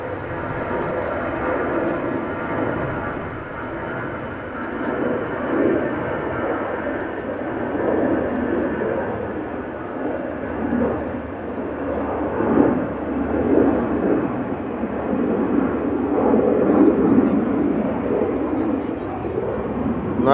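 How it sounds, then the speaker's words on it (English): A KLM Embraer 190 takes off from the runway threshold at Amsterdam Schiphol, its jet roar a loud, steady broadband rumble that swells gradually over twenty seconds without fading. "That looks just like a regular ass Embraer 190 from KLM, insofar as we can see from over here."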